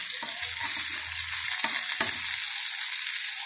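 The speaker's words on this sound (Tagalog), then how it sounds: "Tapos, igisa natin yung ating carrots." Carrots sauté in a pan with onion, garlic and tomato, giving a steady close sizzle broken by a few short scraping stirs and low clunks, with no speech.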